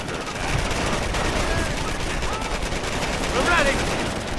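Rangers in the World War II strategy game Company of Heroes fire their weapons in dense, continuous bursts of gunfire under a steady battle din, with voices mixed in.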